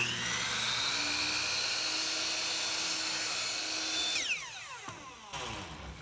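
A power saw cutting a strip of quarter round wood trim set against the fence, a loud whining motor with a steady high tone, then the pitch falls away as the blade spins down after the cut.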